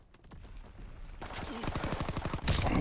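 A modded pistol fired in Call of Duty: WWII lets off a rapid, evenly spaced string of shots that grows louder midway and ends in a bigger burst, fairly quiet overall.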